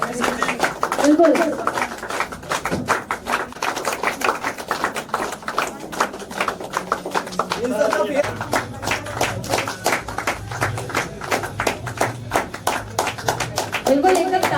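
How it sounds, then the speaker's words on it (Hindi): A group at a leadership workshop in Mount Abu claps in fast, sustained rhythmic bursts, loud and close, while someone speaks over the clapping to urge it on. "बस ताली मांगना पड़ा, ताली ताली ताली"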